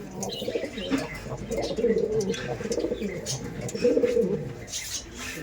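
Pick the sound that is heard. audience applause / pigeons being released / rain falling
pigeons being released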